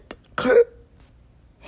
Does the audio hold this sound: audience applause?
no